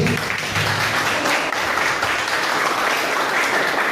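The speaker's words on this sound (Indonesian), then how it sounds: "dari kelompok 1 kasih aplaus" Classroom applause for presenting group 1, a dense steady patter of many hands clapping throughout, fairly close and unbroken.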